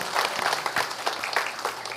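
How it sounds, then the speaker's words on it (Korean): Church congregation applauding in worship, a dense steady wash of many hands clapping at close range, continuous throughout without speech. "우리 하나님 앞에 영광의 박수를 올려드리겠습니다."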